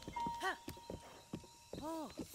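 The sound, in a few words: horse hooves in video game Breath of the Wild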